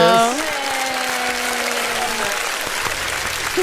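A small group applauds during a podcast recording, a dense burst of close clapping that carries on steadily with a voice briefly sounding at the start.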